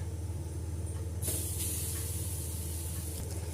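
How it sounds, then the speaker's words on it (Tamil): Grated coconut dry-roasting in a pan for a Tamil-style shredded pepper chicken dish gives a low steady background until a sharp hissing sizzle bursts in and carries on, bright and close. "இதை நல்லா வறுத்து எடுத்துக்கலாம்."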